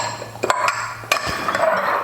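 A tomato salad with carrot, capsicum and red onion is mixed in a bowl, giving a few short clinks and knocks of utensils against the dish between softer stirring sounds. No one speaks.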